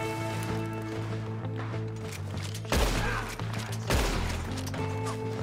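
Gunfire in Red Dead Redemption 2, two sharp loud shots cutting through a steady bed of sustained background music, spaced about a second apart with a brief tail after each.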